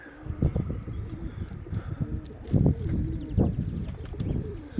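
Racing pigeons in a loft coo in low, throaty bursts, several birds close by, with occasional wing flaps and light rustling between the repeated calls.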